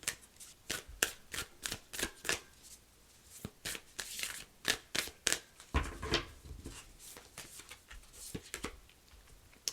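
Tarot cards from a Moonology deck are shuffled and drawn by hand: a close, soft series of quick papery riffles and slaps in irregular bursts, with no talking.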